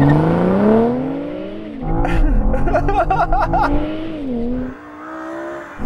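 A BMW M5 V10 Touring launches off the line in a drag race, its engine note climbing loudly, dipping at a gear change, then climbing again, with brief squeal-like noises mid-run.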